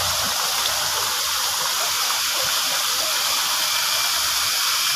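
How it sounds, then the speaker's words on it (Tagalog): A waterfall feeding a flowing stream at Baler gives a steady, loud, close rush of water that does not let up, with no voices over it. "Nandito siya sa falls."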